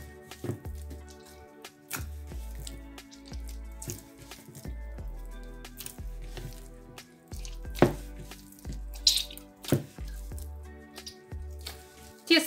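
Yeast dough being kneaded by hand after vegetable oil is added, soft wet squishing and slapping in an uneven rhythm, fairly quiet and close, with no voices.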